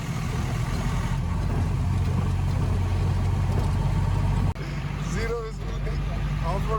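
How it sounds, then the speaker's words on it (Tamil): An old jeep pulling away on an off-road track, its engine droning steadily with rumble and rattle, then a sudden jolt followed by creaks as the ride continues. "இந்த ஜீப்பு கொஞ்சம் ஓல்டு ஜீப்புன்றதுனால கறக்க முறுக்குன்னு சவுண்டு"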